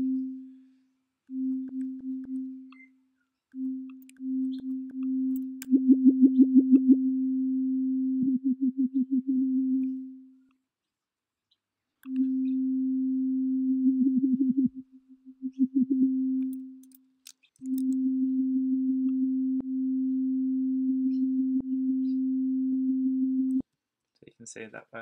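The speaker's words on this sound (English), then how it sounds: "you can hear the modulation of the filter cutoff going off." An Ableton Operator synth plays a sustained low tone whose filter cutoff is modulated, giving a warbling, pulsing texture across several held notes separated by short gaps, clean and alone.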